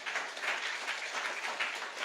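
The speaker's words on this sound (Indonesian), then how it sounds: "Tepuk tangan untuk Tuhan Yesus." Applause from a church congregation, a dense steady patter of many hands clapping without a break, close and full, with no speech over it.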